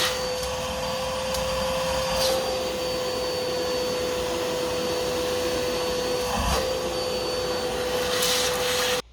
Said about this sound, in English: Going to get the Hoover out and hoover up as much as that as I can.